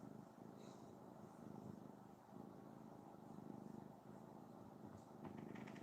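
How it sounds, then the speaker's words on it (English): A cat sitting on a shirt purrs in a soft, steady, rhythmic rumble, heard very close but quiet, with no talking over it. "I hear her purring."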